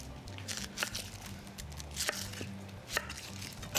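A knife slicing red onion thin on a cutting board, a series of quick, crisp chops with irregular rhythm, close and fairly quiet, with a low hum underneath.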